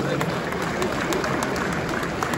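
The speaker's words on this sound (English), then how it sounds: "Please, a resounding round of applause for him now." At an awards ceremony, a crowd applauds a state governor with a continuous, even wash of clapping that stays steady for the full stretch, with a faint rhythmic tapping on top.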